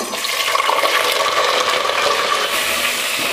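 Chicken pieces dropped into hot oil for korma, a steady loud hiss and crackle of frying that fills the whole stretch without pause.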